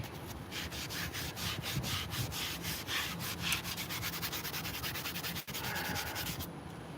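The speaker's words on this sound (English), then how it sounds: "this is just a little 120, 200 sanding block" Rhythmic back-and-forth strokes of a 120/200-grit sanding block rasping over a surface by hand, fast and even, close up, then a short pause near the end.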